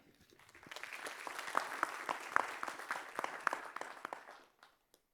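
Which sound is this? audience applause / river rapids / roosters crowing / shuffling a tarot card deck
audience applause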